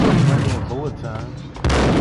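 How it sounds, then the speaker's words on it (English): Slowed-down gunfire during bullet time in the video game Max Payne, with deep, stretched booming shots and warped, drawn-out echoes, then a sudden louder blast, under a voice talking. "I love this bullet time, man"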